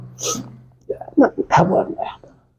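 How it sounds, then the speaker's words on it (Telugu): A dog gives a few short, yelping barks close by, mixed with people talking over the same couple of seconds. "చూడు ఆ కుక్క తెల్లోడా అంటే పరిగెత్తా ఉంది"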